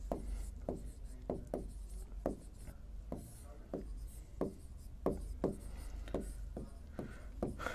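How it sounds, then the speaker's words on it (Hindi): Chalk or marker strokes on a board during a maths lesson, a steady series of short, sharp scratches and taps at an irregular rhythm, close and fairly quiet, with no voices. "अब मैं लिख रहा हूं शेषफल प्रमेय"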